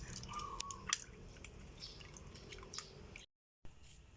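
A fish lifted out of rice-soaking water while making Thai pla som, giving a few close, wet drips and splashes over a quiet background before a brief cut to silence.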